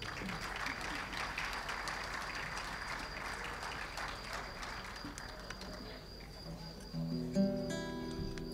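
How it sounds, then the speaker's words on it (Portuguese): Audience applause after a fado choir's performance, a continuous patter of clapping at a modest level, fading toward the end as a few other sounds appear. "Também uma grande salva de palmas aqui para a prestação do coro."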